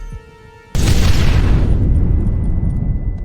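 Explosive charges blow open a gate in the video game Red Dead Redemption: a sudden loud boom after a quiet lead-in, followed by a long, heavy rumbling roar that slowly fades.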